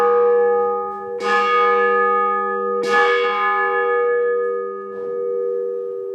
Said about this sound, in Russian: Звон какой близкий. Этот. Колокола, наверное, прошлого века